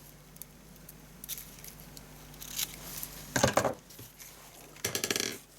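Scissors snipping card at an angle while making a handmade bouquet card, a few quiet sporadic rustles and then two short bursts of crisp cutting, close and alone.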